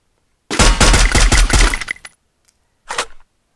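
Gunfire in a shooter video game: a sustained rapid burst of close, sharp shots lasts about a second and a half, then a brief pause, then a second short burst.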